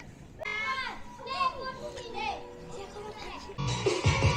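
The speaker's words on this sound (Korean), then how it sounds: "애들 축구하고 있네" Children shouting and calling out while playing football outdoors on a grass pitch in Phongsaly, Laos, lively overlapping voices at moderate distance.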